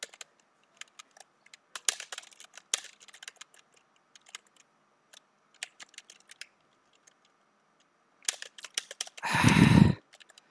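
Computer keyboard keys clatter in scattered quick taps and short bursts during a Street Fighter 6 match, close and fairly crisp, with a louder broadband burst near the end.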